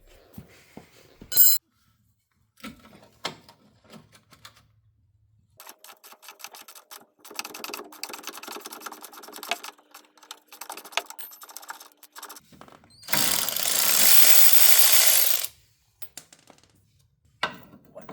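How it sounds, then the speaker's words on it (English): A ratchet fitted with a 17mm socket loosens the rear bumper bolts on a Mercedes G55, with scattered clicks, a dense run of rapid ratcheting, and a short loud hissing burst near the end. "Take this off, just grab your 17mm key and a 17mm socket."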